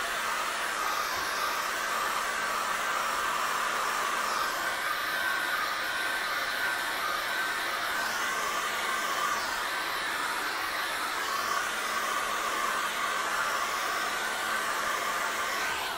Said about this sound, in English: let's dry that off with a hairdryer